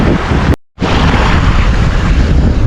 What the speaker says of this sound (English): so the wind's picked up